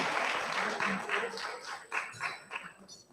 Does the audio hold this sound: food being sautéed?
no